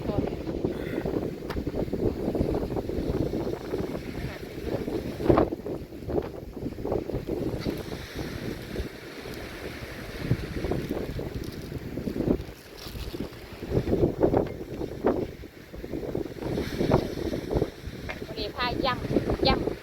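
Strong wind buffets the microphone at a seaside beach on Torö during a picnic, a continuous roaring rush with gusts swelling and dropping, while people talk faintly under it.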